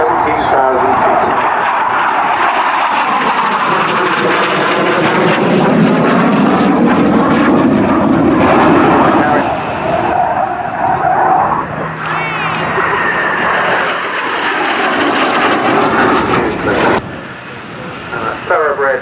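British jet aircraft flying at Culdrose Air Day, a loud roaring engine rumble that swells and sweeps in pitch as it passes, heard under an announcer talking over a public address system.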